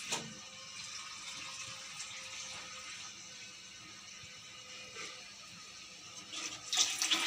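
Water is poured into a pabda fish curry made with mustard and poppy seed, a soft, continuous rushing flow that swells louder at the very end.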